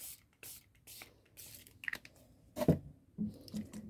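A handful of quick, hissing spritzes from a spray bottle, close up, followed by soft handling and crinkling noises.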